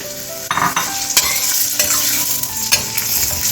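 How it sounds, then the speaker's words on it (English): Chopped onion frying in corn oil, a loud, bright sizzle with repeated stirring scrapes and clanks against the pan, close up and without talk. "So now I'm adding my chopped onion."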